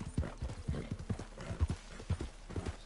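A horse's hooves clip-clop in a steady trotting rhythm in the video game Red Dead Redemption II, close and clear over a soft outdoor ambience, with no talking.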